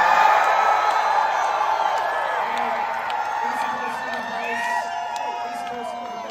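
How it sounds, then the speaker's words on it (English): Crowd noise at a furry convention floor event, a dense, sustained wash of cheering and whooping voices close by, loudest at the start and easing slightly while staying steady throughout. "Crowd, make some noise if you want my fellow East Coasters."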